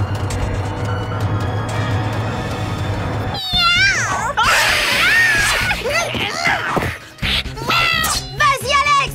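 A cartoon cat from the animated series Totally Spies meows in loud, wavering cries. Music plays at the start, then several drawn-out yowls and shorter snarls follow in quick succession.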